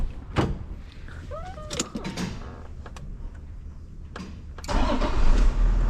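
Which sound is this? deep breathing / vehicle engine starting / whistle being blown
vehicle engine starting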